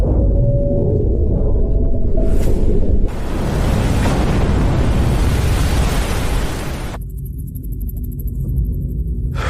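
A missile strike explodes with a deep, loud, continuous roar and rumble, swelling then thinning into a rushing, hollow tail over several seconds, with no voices.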